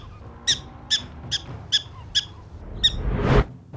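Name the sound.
prairie dog call, recorded earlier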